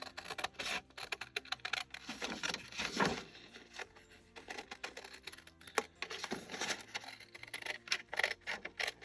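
Scissors snipping out a paper junk embellishment for a craft project, a close series of quiet irregular cuts and paper rustles with brief pauses between them.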